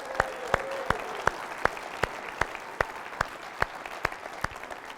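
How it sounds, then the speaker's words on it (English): A few people at an evening gathering clap at a slow, regular beat, sharp distinct claps standing out over a soft, steady background of crowd murmur. "Can everyone give those people a huge round of applause?"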